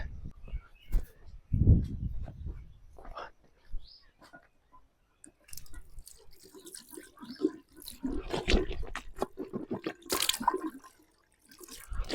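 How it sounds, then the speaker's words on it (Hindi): Water splashing and dripping as hands and face are washed outdoors during a forest trek, with intermittent close splashes and trickles scattered through the clip. "हाथ मुंह धो लेते हैं"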